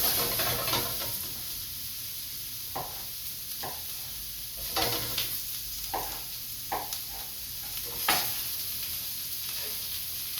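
Japanese-style pumpkin curry vegetables sizzle and fry steadily in a pot, a constant hiss broken by occasional soft clicks and stirring knocks.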